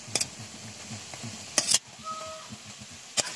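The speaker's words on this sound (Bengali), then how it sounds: "বিস্কিটটা ভেজে নিতে হবে।" Wheat-flour biscuits frying in oil in a pan, a soft bubbling sizzle with a few sharp clinks and scrapes of stirring, quiet and close with no speech.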